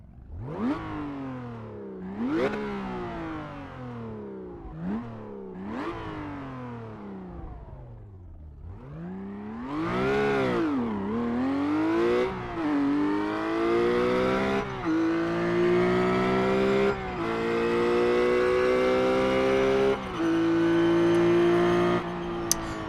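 A RUF car in the iRacing game revs repeatedly, with several sharp rising and falling blips of engine and exhaust, then a long climb through gears to a sustained high-pitched mechanical drone, loud and alone.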